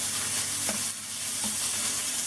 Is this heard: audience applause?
no